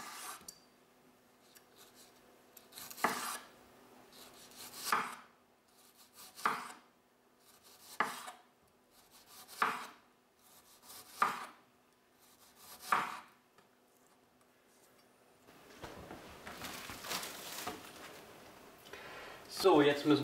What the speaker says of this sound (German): Und die Schalotte schneiden wir jetzt in feine Ringe.